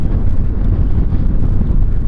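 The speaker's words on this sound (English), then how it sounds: "it's very, very windy" Strong wind buffets the microphone in a loud, continuous low roar at Buttertubs Pass, rumbling without pause for the whole moment.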